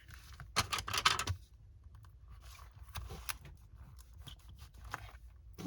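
Paper being creased and pressed flat with a bone folder while making a patchwork journal cover, a burst of crisp rustling and scraping at the start, then quieter intermittent rubs and taps close up.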